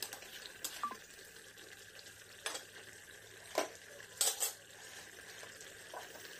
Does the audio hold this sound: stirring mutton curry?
yes